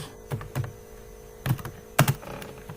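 Typing code on a computer keyboard, a few scattered clusters of close key clicks separated by short pauses over a faint electrical hum, no talking.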